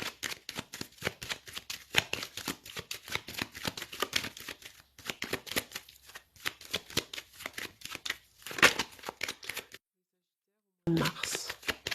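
A deck of tarot cards is cut and riffled repeatedly at close range, giving a steady run of crisp papery flutters and slaps with a brief silent gap near the end, while someone talks over the shuffling.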